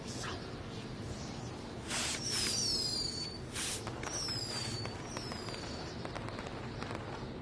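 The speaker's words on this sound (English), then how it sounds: "either way, we'll get to see some cool fireworks." Fireworks going off outdoors: several whistling rockets rise and burst into crackling pops over a steady background rumble.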